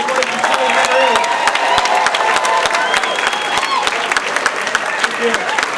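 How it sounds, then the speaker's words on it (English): Audience at the FDLA 20 for 20 honors event gives the 20 honorees a final round of applause, a dense, steady crowd clapping that stays loud and even throughout. "one last final round of applause for all the 20 honorees"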